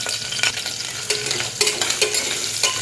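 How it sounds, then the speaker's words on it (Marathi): Fresh grated coconut fries in hot ghee inside a pressure cooker, a close, crackling sizzle broken by several sharp scraping stirs of a spoon against the metal. "आता त्यामध्ये मी हे ओलं खोबरं छान असं तळून घेणार आहे"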